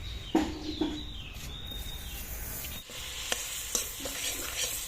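Butter melting in a pan for white sauce pasta, giving a soft, steady sizzle with a few scraping stirs and light clinks, close and moderately loud.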